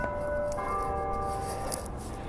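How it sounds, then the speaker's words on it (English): Church bell tones ring out with a sustained, clear pitch during an outdoor street walk. They hang over a constant background wash of city noise at moderate distance. "sorry, I'm getting distracted by the bell here."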